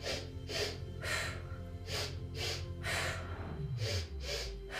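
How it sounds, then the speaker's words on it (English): Sharp nasal sniffing breaths during a leg stretch in a core workout, a rhythmic series of about nine quick paired sniffs, close and fairly loud, with no talking. "you're gonna sniff, sniff, switch."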